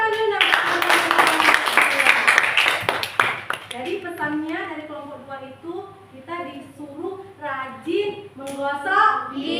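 Children clap their hands together in a classroom for a few seconds, a bright burst of overlapping claps, after which someone talks on alone while the clapping dies away.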